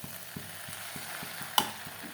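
A spoon stirs khichuri in a pot with regular soft scrapes about every third of a second over a low sizzle, plus one sharp metallic clink partway through, quiet and without speech.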